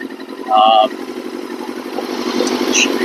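A 2000 Yamaha R6 motorcycle, abandoned and being revived, idles with a steady low pulsing throb close by, with faint beeps and small mechanical sounds over the engine.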